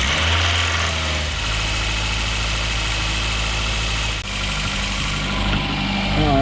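A Nissan Altima with a 2.5L engine, its exhaust manifold and catalytic converter just replaced, cranks briefly and settles into a steady, loud, close idle with a constant low hum and one slight dip.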